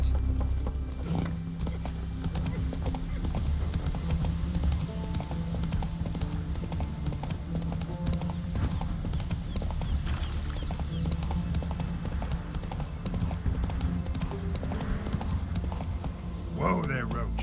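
Hooves of Roach, a horse in The Witcher 3: Wild Hunt, clip-clop steadily throughout in a regular trotting rhythm, close and fairly loud, over game music and ambience.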